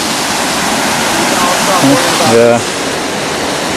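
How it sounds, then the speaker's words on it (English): A creek's flowing water makes a steady, dense rushing wash throughout, close and loud, with a brief spoken word over it. "I was just telling them we just found the creek and water"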